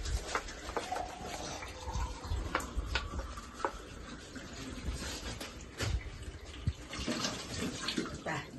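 Water is poured and swirled for an egg mala (muttamala) dessert recipe, a continuous close splashing and trickling with scattered clinks, and no talking.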